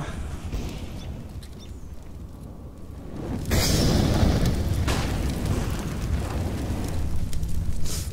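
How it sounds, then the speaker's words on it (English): A flashbang grenade detonating in Counter-Strike: Global Offensive, a sudden loud burst about three seconds in that swells into a sustained roaring wash of noise, preceded by quieter game ambience. "Deploying flashbang"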